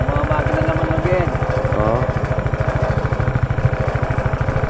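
A farm machine engine runs in a rice field with a steady, fast chugging pulse that holds loud and close the whole time, with voices talking over it.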